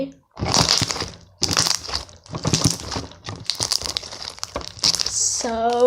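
Crunchy slime squeezed and pressed by hand in five or six loud, close crackling bursts separated by brief pauses, with a short voice near the end.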